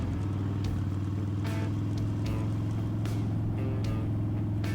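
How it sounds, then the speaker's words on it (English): Harley-Davidson Dyna Super Glide motorcycle pulling away on takeoff, a steady low engine rumble throughout with throttle rising, close and loud, no talking. "The Dyna Superglide has some nice throttle and power on takeoff."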